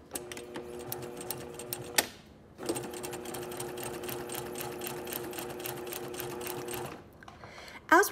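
A sewing machine stitches a release tuck on fabric in two close, steady runs of rapid mechanical whirring, with a short pause between them and a click at the end.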